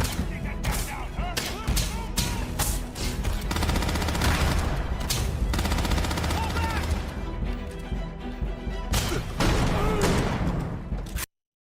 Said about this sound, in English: We've got company. Opening fire.